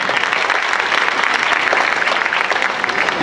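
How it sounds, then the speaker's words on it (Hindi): An audience at a degree college event claps steadily for the registrar, a dense, loud burst of applause filling the hall for a few seconds without letup. "तो ताली बजाइए रजिस्ट्रार साहब के।"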